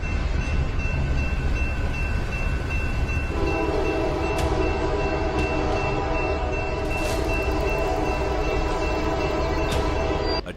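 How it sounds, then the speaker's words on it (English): A train barrels along railway tracks toward a level crossing with a loud, steady rumble that continues throughout. A sustained horn tone comes in partway through, and sharp clanks follow near the end. "A train barrels in"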